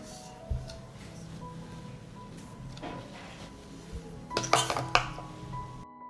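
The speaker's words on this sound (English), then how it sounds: "I put the jars in the pot." Glass jars being set into a deep cooking pot lined with a cloth, giving a few clinks and knocks clustered near the end over a quiet kitchen background.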